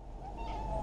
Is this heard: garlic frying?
no